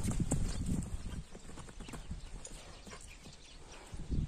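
Horse hooves clip-clopping at a livestock market, a rapid series of close, distinct hoof strikes, heaviest at the start and end, with faint background voices.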